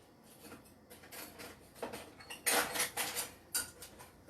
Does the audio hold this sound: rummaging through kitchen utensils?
yes